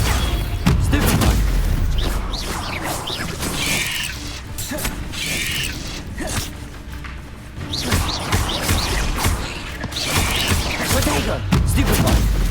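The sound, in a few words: Stupefy and Protego spell casting, video game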